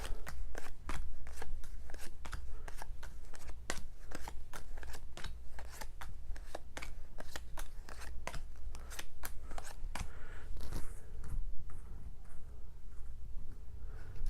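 A deck of cards is shuffled by hand during a tabletop game. Crisp, rapid snapping riffles repeat in an even rhythm for about eleven seconds, then thin out into scattered soft clicks.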